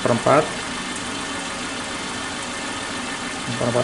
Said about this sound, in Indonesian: Nah ini mau mati, mesinnya udah turun